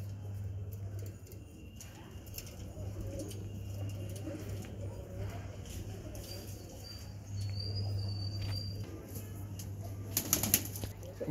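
Madrasi pigeons in a loft coo softly in a quiet room, with occasional light flutters of wings and a burst of flapping near the end, over a low steady hum.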